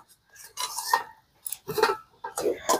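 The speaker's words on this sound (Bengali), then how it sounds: "খুব ভালো করে মিশিয়ে একটা ডো তৈরি করে নেব।" Repeated scraping and rubbing of a utensil against a kadai while a stiff dough of rice flour, mung dal and potato is mixed over low heat, in several short bursts with brief pauses.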